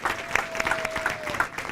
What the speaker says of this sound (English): You have to clap.